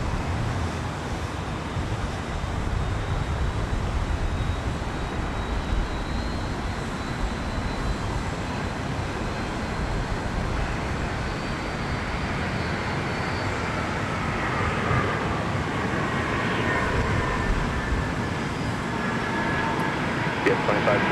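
UPS MD-11F cargo jet landing at Minneapolis–Saint Paul airport, a long broad roar of engines and rushing air heard from afar, with a faint whine rising and falling over it.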